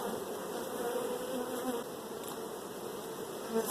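Dense, droning hum of many honeybees buzzing together in a hive, close and continuous.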